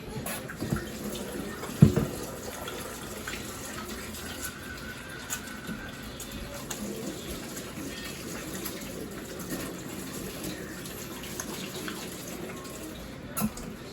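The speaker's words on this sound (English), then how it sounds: "Then we're going to wash our hands." Hands are washed under a running kitchen tap during sweet and sour chicken preparation. Water streams steadily at close range for the whole stretch, with occasional splashes and light handling noises.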